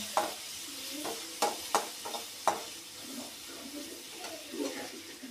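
Vada pav mixture roasts in a pan, with a steady soft sizzle broken by several sharp clinks and scrapes of a spoon stirring against the pan, close by and with no talking.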